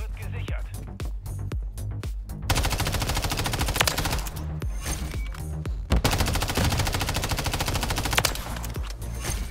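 Rapid automatic gunfire in Call of Duty: Modern Warfare 3 (2023) comes in dense sustained bursts, loud and close, broken by short pauses, with someone talking over the shooting.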